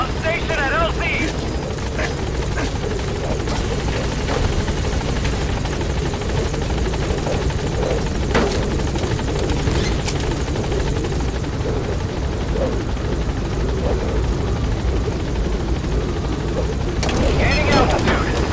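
A military helicopter lifts off from a landing zone in Metal Gear Solid V, its steady rotor thump and engine roar loud and continuous throughout, with radio voices talking over it.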